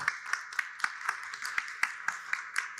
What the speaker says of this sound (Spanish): Un aplauso para él también, por favor